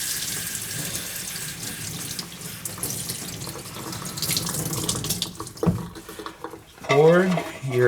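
Water from a kitchen tap runs steadily over a plate and sponge, then gives way to brief splashing and wet rubbing sounds near the end.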